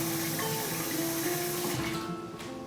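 Steady rush of running tap water in a kitchen while rice is rinsed, a close, even splashing stream that fades slightly toward the end, with no talking.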